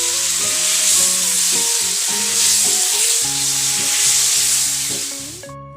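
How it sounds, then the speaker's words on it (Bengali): Grated onion fries in hot oil for an egg curry, just after grated garlic was added, giving a loud, continuous sizzle with steady crackling and faint background music under it. "পেঁয়াজ তেলের মধ্যে খুব ভালো করে ভেজে নিতে হবে"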